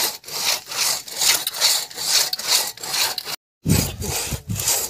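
Firewood is cut with a hand saw in a steady back-and-forth rhythm of loud, close rasping strokes, broken by one brief pause before the sawing resumes.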